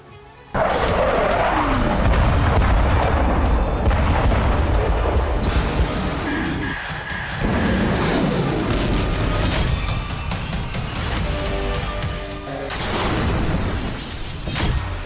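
Heavy blasts and crashing rumble from the war in Ukraine, loud and sustained with booming impacts and debris noise layered over a dense, roaring background, no voices.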